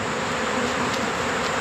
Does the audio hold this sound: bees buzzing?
yes